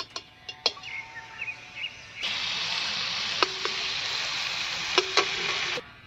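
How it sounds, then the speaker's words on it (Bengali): Butter dropped into a hot wok: a few light clinks and taps of a utensil, then a sudden broad hissing sizzle that holds steady for several seconds with occasional knocks before cutting off. "কড়াইয়ের মধ্যে দিয়ে দিচ্ছি বাটার।"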